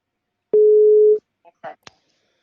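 A single steady telephone tone lasting under a second while a call is placed to a friend, followed by a few short faint clicks and blips.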